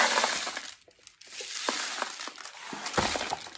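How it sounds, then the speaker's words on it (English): Dry rice is poured down into a tube sealed with a muffin tin to build a rainstick, making a continuous gritty rushing patter up close that pauses briefly near the first second before pouring again. "We're gonna take some rice and dump it down inside of the tube."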